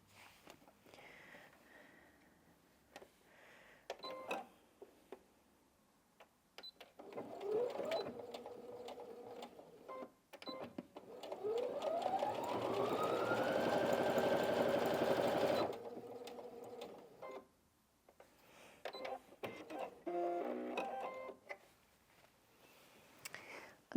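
A Brother NV1800Q sewing machine fitted with a jeans needle stitches through two layers of denim, with a short start followed by a longer steady run of motor whir. Quieter handling clicks come before and after, all close by and with no talking.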